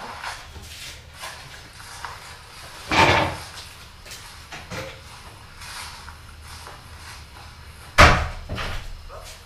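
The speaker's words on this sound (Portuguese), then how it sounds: "Ixi, a porta abriu sozinha ali," A door swinging open on its own outdoors in the woods at night, with two sharp knocking thuds several seconds apart over a constant rustling background.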